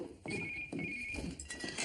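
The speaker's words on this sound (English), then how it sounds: "I never answer the home phone" A home landline telephone rings with a steady electronic trill, moderately loud, while low background noise and muffled movement sit underneath.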